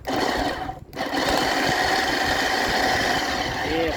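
A kitchen blender whirring loudly as it purees garlic with sauce for a Thai fermented snakehead fish recipe, a steady grinding drone that briefly dips near the start and then runs on without a break.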